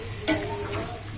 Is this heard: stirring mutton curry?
yes